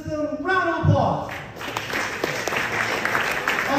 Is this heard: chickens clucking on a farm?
no